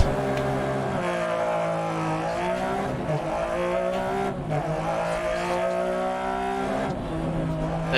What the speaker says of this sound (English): it is rude to talk over that glorious 6-cylinder sound